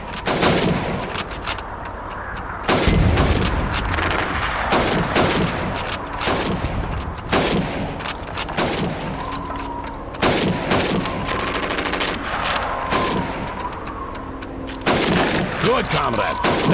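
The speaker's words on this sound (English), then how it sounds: "You have 15 seconds to shoot the helmets." Rifle fire rings out in Call of Duty 2 during a timed helmet-shooting drill, with a rapid string of loud close shots and sharp cracks over continuous battlefield noise.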